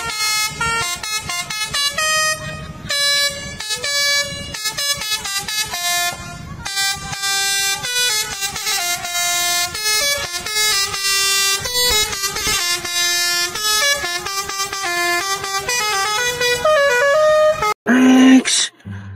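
An Aska Wijaya bus sounds a loud, multi-tone musical air horn nearly nonstop, its melodic blasts shifting pitch in quick bursts, then ends with a short burst of engine and road noise as it passes close by.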